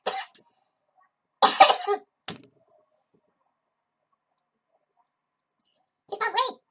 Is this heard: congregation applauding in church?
no